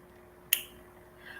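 A single sharp finger snap, crisp and close, standing alone against a quiet background with a faint steady hum.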